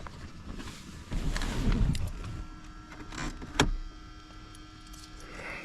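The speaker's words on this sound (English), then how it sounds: "CD player's making some kind of noise." Mechanical whirring and clicking from the CD player of a 1993 Ford Ranger that has sat for years, faint and grinding in short bursts with a sharp click in the middle, heard close inside the cab.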